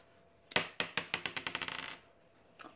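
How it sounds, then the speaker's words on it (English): Dice tumble and clatter across a surface during a Pie Face board game, a quick burst of about a dozen bouncing clicks that speed up and settle within two seconds, with one faint tap after. "Okay, rolling the dice."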